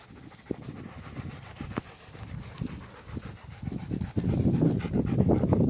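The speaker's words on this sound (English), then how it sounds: "So he's actually, notice how he's growling at Lee's running at us with the stroller." Leashed dog growling low and panting in short rhythmic bursts, close by, with the sound building louder toward the end as a person approaches running with a stroller.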